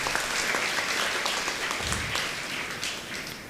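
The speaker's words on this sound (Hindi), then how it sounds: "जोरदार ताली बजाइएगा" Sustained applause from a church congregation at a Holy Week service, a dense steady clapping that fills the whole stretch at even loudness and eases slightly toward the end.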